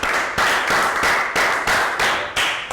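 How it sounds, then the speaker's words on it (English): Classroom applause for a pair of Year 3 pupils during a maths lesson, a steady burst of clapping that rises and dips in several rhythmic waves, close and fairly loud, with no talking over it. "Rounds of applause for pair number 2."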